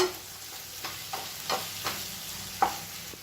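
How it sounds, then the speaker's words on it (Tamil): Boiled potato pieces sautéed with ginger garlic paste in a pan, a soft steady sizzle punctuated by several sharp scraping stirs of a spoon at irregular intervals. "உருளைக்கிழங்கு சேர்த்து ஒரு 2 நிமிஷம் வதக்கி விட்டுருங்க"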